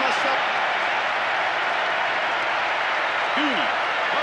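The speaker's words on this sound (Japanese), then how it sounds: "スタジアム中が大歓声。" A stadium crowd roars in a football match in the Winning Eleven 10 video game after a late goal, a steady, dense wash of cheering held at full volume throughout with a brief voice near the end.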